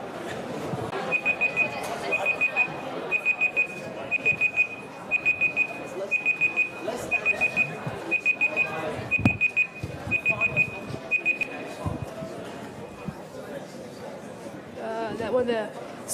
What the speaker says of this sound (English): So that is the beep of please return to your seats.